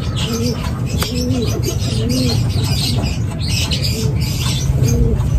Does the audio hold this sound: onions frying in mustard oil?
no